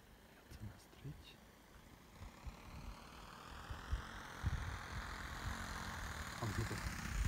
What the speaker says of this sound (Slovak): Motor je aktivován.